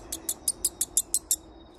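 A man imitates a bird call in the outdoors, making a quick series of eight high squeaky chirps at an even rhythm, close and fairly loud, then a faint final peep.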